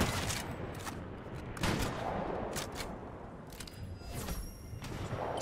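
Distant, muffled gunshots in Fortnite, scattered in irregular bursts over a steady bed of game ambience.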